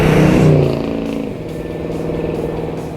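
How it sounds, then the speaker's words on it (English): A 440 cubic inch Plymouth Superbird muscle car roars loudly nearby, its engine note dropping from a hard rev into a steady rumbling drone as it pulls away. "You just nail the thing and it just accelerates like a bullet."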